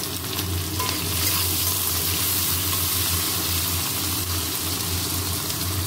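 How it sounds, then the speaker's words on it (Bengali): Onions fry in hot oil in a pan, a loud, continuous close-up sizzle and crackle that holds steady throughout with no talking. "বন্ধুরা, তেল গরম হয়ে গেছে, এবারে পেঁয়াজ দিচ্ছি। পেঁয়াজটা খুব ভালো করে ভেজে নেব।"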